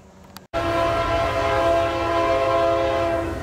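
A westbound CN freight train rumbles past close by, its horn blaring in a long steady chord over the grinding roll of wheels.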